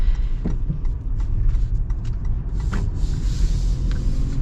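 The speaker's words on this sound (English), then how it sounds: "it really doesn't sound too loud from that 4-liter V6" A 2021 Toyota 4Runner's 4-liter V6 hums at a moderate, subdued level from inside the cabin while driving and turning, with road rumble and small knocks and clicks over it.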